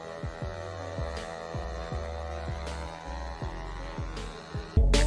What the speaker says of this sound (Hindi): जैसे अंकल जी इस स्विच को प्रेस करके मोटर को एक्सेलरेट कर रहे थे, पंखा तेज घूम रहा था